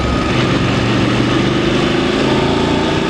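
Steady, loud drone of a VOGE 900 motorcycle engine while riding, a constant low hum with wind noise and no change in throttle, no talking.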